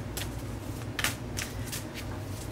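Tarot cards riffle and flutter in several quick bursts, soft and close, over a faint low background hum.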